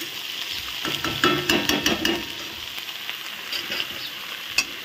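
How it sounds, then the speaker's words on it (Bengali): Banana flower frying in a pan for a temple offering dish, a close steady sizzle with a burst of quick clattering stirring strokes early on, then quieter frying and one final tap. "দেখো সুন্দর ভোগের মোচা হয়েছে। এখন একটু নেড়ে দিলাম"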